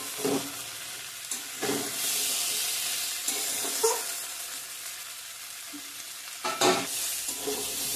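Spices sizzle steadily in hot oil for ghugni chickpea curry, broken by a few sharper clinks and scrapes of stirring, close and moderately loud with no talk.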